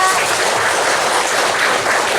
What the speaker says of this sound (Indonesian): Oke, boleh tepuk tangan untuk Nala